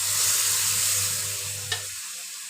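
A ground coconut paste sizzles and hisses as it fries in a pan for Kerala-style drumstick thoran, a steady bright crackle with a low stirring rumble that fades out near the end.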